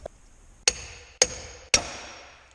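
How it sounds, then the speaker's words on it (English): Three sharp metallic hammer blows at a steady pace drive out a seal on a Dodge Cummins transmission, each ringing briefly with a bright metallic tone before decaying, close to the listener. "see if it'll come out when I beat it with the hammer here"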